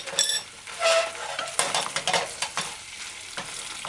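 Chicken, broccoli and carrot stir-fried in a hot pan, with sizzling and scraping, clattering stir strokes coming in short irregular bursts up close.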